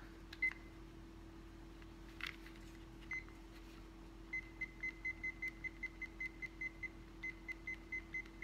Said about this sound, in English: So set your timer.